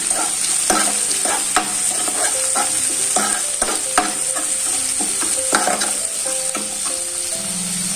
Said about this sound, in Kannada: ಎರಡು ಸಣ್ಣ ಕೈಗೆ ಈರುಳ್ಳಿನ ಸಣ್ಣದಾಗಿ ಹೆಚ್ಚಿಟ್ಕೊಂಡಿದ್ದೀನಿ ಅದು ಕೂಡ ಎಣ್ಣೆನಲ್ಲಿ ಸ್ವಲ್ಪ ಬಾಡಿಸ್ಬೇಕು